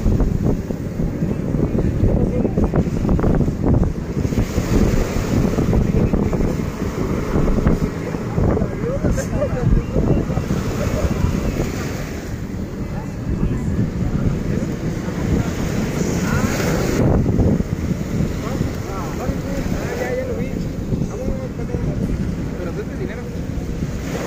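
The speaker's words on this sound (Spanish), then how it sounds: "Aquí el oleaje se pone fuertecito." Strong surf breaks near the shore between Papagayo and La Gamba beaches as a deep, continuous roar with swelling surges, heavily buffeted by loud wind rumble on the microphone throughout.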